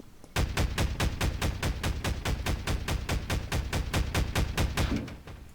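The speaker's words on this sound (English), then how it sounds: "this is a heavy cannon that I've already made in my spare time. This thing has controls, and it can fire" Heavy cannon built with Wiremod in a video game firing in rapid succession, about twenty evenly spaced booming shots in a steady rhythm, close and alone.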